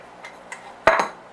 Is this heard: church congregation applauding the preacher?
no